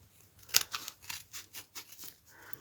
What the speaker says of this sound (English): I'm going to need to trim this off.